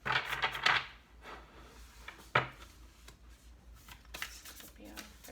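Tarot cards are shuffled with quick riffling bursts, a sharp tap partway through, then more soft shuffling, close and fairly quiet.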